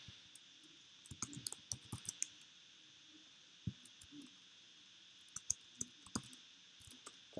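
Quiet, close computer-keyboard typing in scattered bursts of light clicks with pauses between, over a faint steady background hum.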